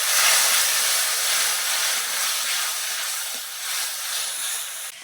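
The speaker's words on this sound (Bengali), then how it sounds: "আমি জল দিয়ে দিচ্ছি অল্প করে।" Steady broadband sizzling and hissing as a little water hits a hot pan while cooking potol dolma, stuffed pointed gourd, fairly loud and continuous, easing slightly near the end, with no talking.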